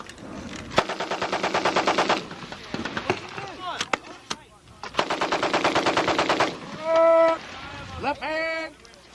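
An M60 machine gun fires on a military range at Fort Leonard Wood in two long, loud automatic bursts, separated by scattered single shots and clanks, with voices calling out between them.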